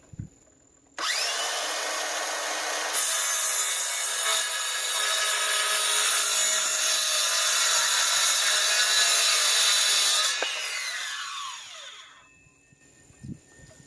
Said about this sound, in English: from here I can go ahead and start cutting my 2 inch strips